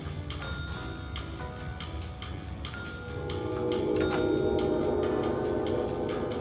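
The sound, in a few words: bell being rung in the video game Control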